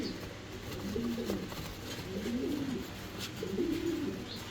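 A pair of black Henna pouter pigeons coo in three soft, low, rolling phrases spaced about a second apart, heard close but quiet over a faint background hum.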